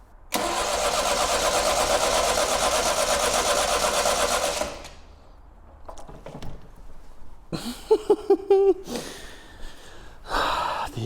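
An abandoned Triumph Dolomite with freshly adjusted carbs fires up in a loud, churning burst lasting about four seconds that cuts off abruptly, followed by quieter clanks and short mechanical bursts.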